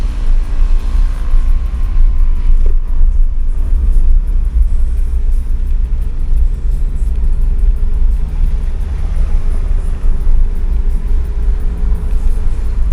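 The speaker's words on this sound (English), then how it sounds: "Traffic from Angeles to Mabalacat." Road traffic between Angeles and Mabalacat heard from inside a moving vehicle, a loud continuous low rumble of engine and tyres with passing vehicles faintly swelling by.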